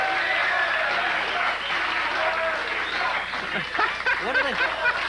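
A late-night television studio audience in 1983 chants the name Regis in a loud, rhythmic crowd roar, mixed with applause and scattered chuckles.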